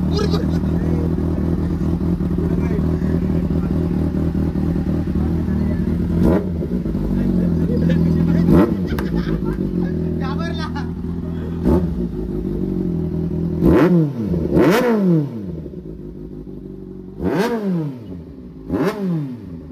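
A motorcycle engine idles steadily nearby, then revs sharply several times toward the end, each rev rising and falling quickly, with people talking in the background.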